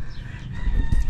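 A rooster crows at a game-fowl farm, a single crow with a rising, harmonic call under outdoor background noise and low thumps, fairly close and loud.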